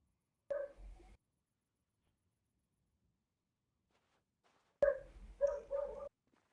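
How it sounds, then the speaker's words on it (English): Two short bouts of barking from a pet dog reacting to something outdoors, separated by a long silence, each a quick cluster of sharp, fairly close barks. "He likes to bark at anything outside."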